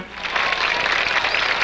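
A large audience bursts into sustained, dense applause as the Venezuelan president Isaías Medina Angarita is received at the United States Congress, a steady hiss of many hands clapping that holds evenly throughout.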